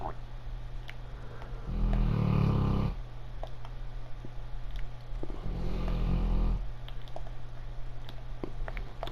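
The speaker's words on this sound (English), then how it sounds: "That is my dog snoring." A big Mastiff dog snores nearby, two long, deep rumbling breaths a few seconds apart, loud and low against a steady indoor hum.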